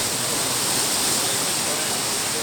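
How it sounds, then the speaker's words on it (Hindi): Loud, continuous broadband roar of a fast mountain river on the road from Islamabad toward Batakundi in the Kaghan–Naran valley, steady and close with no pauses. "पानी की आवाज़ इतनी तेज़ थी और पूरे ट्रिप में ये ऐसे ही थी"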